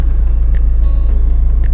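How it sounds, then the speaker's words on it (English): Steady low engine rumble and road noise from inside a car driving toward a concert venue, loud and close, with faint ticking above, no talk. "So we're just driving up in the car now."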